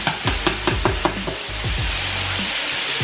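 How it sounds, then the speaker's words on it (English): Chicken pieces frying in a pan, with a series of sharp knocks and clatters of utensil on pan early on over a soft sizzle, then a steadier frying hiss. "It doesn't have to be fried all the way. You're just frying it."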